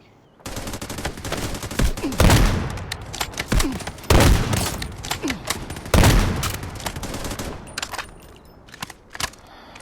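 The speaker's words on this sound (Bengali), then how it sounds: "ওপরে একটা এনিমি আছে কভারে আছে ফায়ার চালাচ্ছে" Enemy gunfire in a tactical shooter game, Zero Dam mission, with an enemy firing from cover: repeated bursts of shots and sharp cracks over about nine seconds, some loud and close, with pauses between volleys.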